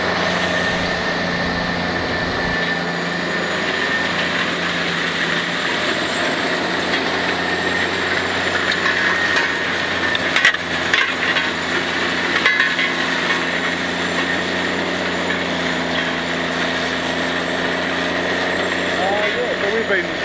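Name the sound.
Grizzly Tiny disc cultivator engine digging soil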